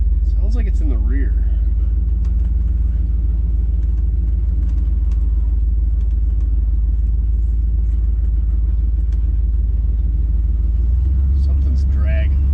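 A 1988 Chevrolet Suburban rolls along with its rear tires rubbing, giving a steady low road rumble and drone from inside the cabin; a voice briefly breaks in at the start.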